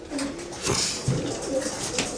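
A pigeon coos softly a few times, low throaty calls close by, over steady background noise.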